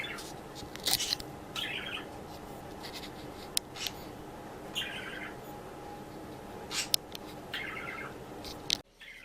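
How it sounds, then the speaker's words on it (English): A bird calling somewhere in the background of a room where a model train table is being worked on, several short bright chirp bursts repeating every couple of seconds, faint and distant over a steady hum, with no talking. "we got the bird back there talking away."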